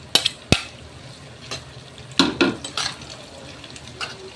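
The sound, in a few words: frying and stirring beef fat with garlic in a pan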